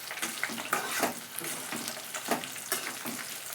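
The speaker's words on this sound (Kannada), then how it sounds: "ಕೆಂಪು ಮೆಣಸಿನ್ಕಾಯಿ ಸ್ವಲ್ಪ ಫ್ರೈ ಆಗಬೇಕು." Red chillies frying in oil in a home kitchen, a soft crackling sizzle that comes in uneven bursts with light stirring, fairly quiet and close, without speech.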